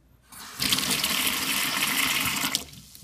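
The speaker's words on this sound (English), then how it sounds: "just put it back in a bucket and run some water." Water from a tap rushing into a bucket while cleaning spoonbill eggs for caviar, a steady loud gush that starts abruptly, holds for about two seconds, then cuts off.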